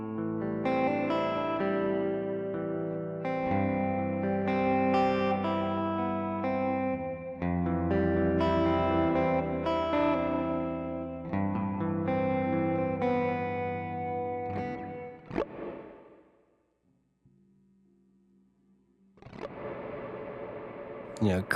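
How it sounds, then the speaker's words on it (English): Electric guitar played through a Walrus Qi Etherealizer with its reverb turned up, sustained chords blooming into long washy decay; the playing stops briefly, a faint tail rings on, then strumming resumes. "Cranking that up just kind of gives more of everything, right? You get more decay and more reverb"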